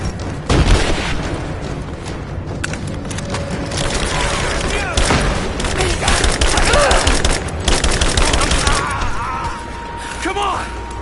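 Grenade blast and gunfire in the Rise of the Tomb Raider video game, with dense bursts of shots and booms running nonstop through the whole stretch while voices shout underneath.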